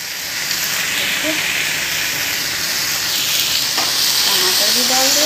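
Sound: tomatoes frying in a pan for pasta sauce

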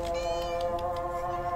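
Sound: cat meowing

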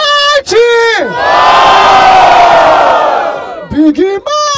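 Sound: crowd cheering at a rap battle

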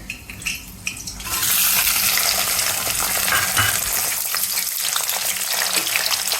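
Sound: tomato puree sizzling in hot oil in a pan

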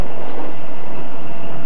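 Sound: new British Rail Class 310 electric suburban train

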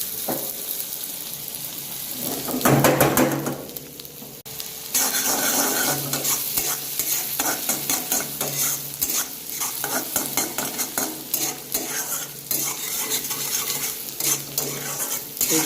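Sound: onion frying in oil with cumin for egg bhurji

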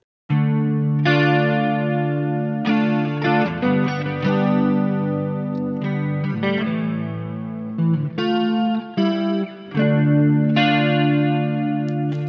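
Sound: electric guitar with chorus and reverb effects

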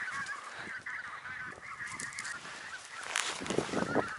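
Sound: geese honking during spring goose hunt

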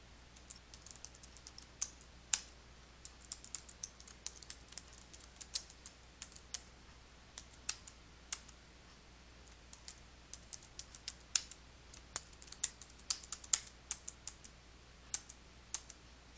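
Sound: typing data entries on a computer keyboard

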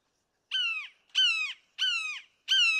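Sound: red-shouldered hawk calls

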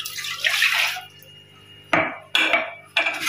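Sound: water being added to pizza dough

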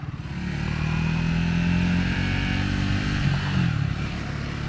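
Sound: Triumph Scrambler 400x motorcycle riding and accelerating

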